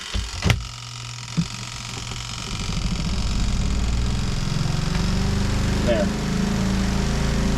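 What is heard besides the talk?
portable washing machine running off inverter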